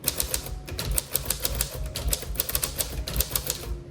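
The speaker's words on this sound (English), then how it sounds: "It just has a denser feel when you type on it." Steady typing on a 1935 Smith Corona Silent typewriter with soft, muffled keystrokes in a quick, uneven rhythm, close up, with no voices.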